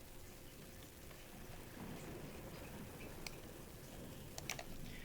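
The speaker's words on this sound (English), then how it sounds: "this storm's pretty bad out there" A storm in Garry's Mod brings steady rain, a soft, even hiss of falling water heard faintly and continuously, with a few light ticks near the end and no clear thunder.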